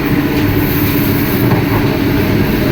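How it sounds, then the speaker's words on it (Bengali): Loud, steady rumble of a Vande Bharat sleeper train running on rails at about 106 km/h at night, heard from inside a carriage, with continuous low roar and faint rhythmic rattling. "দেখুন এখানে কিন্তু দেখাচ্ছে 106 কিলোমিটার প্রতি ঘন্টায় চলছে আমাদের এই ট্রেন"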